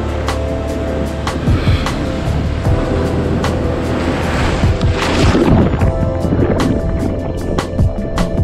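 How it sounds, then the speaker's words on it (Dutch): Big ocean waves crash and churn nearby in a loud, continuous wash of surf, with a heavier surge building midway and sharp splashes breaking through. "Dikke golven!"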